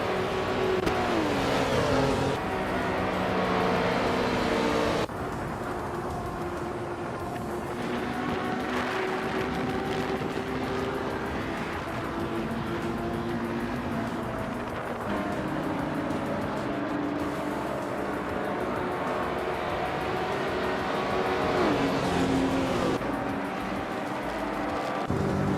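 Ferrari F50 race cars in a racing video game scream past with sustained high engine revs, shifting pitch as they accelerate through tight corners and short straights, loud and continuous with no voices.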